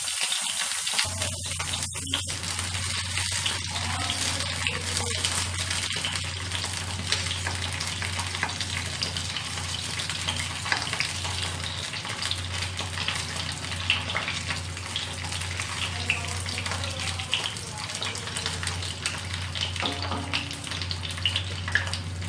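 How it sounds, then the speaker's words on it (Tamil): Brinjal sautéing in oil over a medium flame for kuzhambu gives a steady, loud sizzle and crackle that runs unbroken throughout, with a low stove hum beneath and no voices. "அது கொஞ்சம் சிம்மில், மீடியம் ஃப்ளேமில் வச்சுட்டு இதை நீங்கள் வதக்கணும்."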